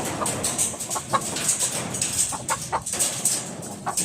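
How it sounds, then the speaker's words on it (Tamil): Village chickens clucking and scattering in fright, rapid overlapping clucks and squawks nearby with scuffling movement and chirping birds in the background. "எங்கள் கோழி வேறு நம்மளை பார்த்து பயப்படுது, தெரிச்சுக்கிட்டு வேக வேகமாக ஓடுது"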